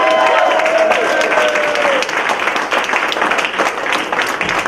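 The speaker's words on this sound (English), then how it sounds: "keep your hands clapping for the next comic" Audience applause at a comedy show during a toy drive event, steady loud clapping from a crowd with scattered cheers, continuous through the moment and slightly thinning toward the end.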